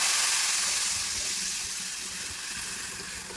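A loud, bright hiss and sizzle as tamarind water hits a hot pan, fading slightly as it settles into a steady bubbling fry.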